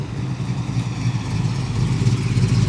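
A 1970 Dodge Charger 500 classic Mopar engine runs steadily nearby, a deep low rumble with a slightly uneven idle pulse and light mechanical clatter, no talking over it.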